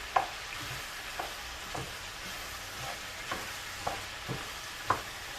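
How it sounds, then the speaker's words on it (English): Vegetables stir-frying in a pan with a steady low sizzle, broken by a few distinct clinks and scrapes of a utensil stirring, roughly once a second, close by with no talking. "And I'm going to cook the veggies until they're about tender."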